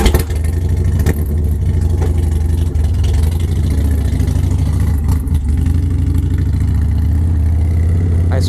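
A Harley Davidson Dyna engine with a slipping clutch rumbles loud and close, revving with a rough, throbbing low drone and some mechanical clatter that holds steady throughout.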